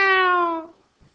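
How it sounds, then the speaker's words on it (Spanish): An abandoned kitten gives one clear, high, falling meow, close and loud, followed by a brief soft noise. "Es un gatito, seguro."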